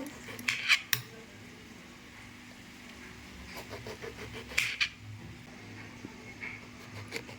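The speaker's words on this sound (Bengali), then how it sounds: "এটাকে আমি একদম সরু সরু করে কেটে নেব" A knife slices potato into thin strips, producing a few quick clusters of crisp taps and clicks, faint and scattered, over a low steady hum.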